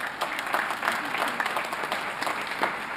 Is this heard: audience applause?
yes